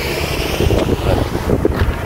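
Sea waves wash onto a beach in Japan while gusty wind buffets the microphone, producing a loud rushing roar with rolling surges of surf and no speech.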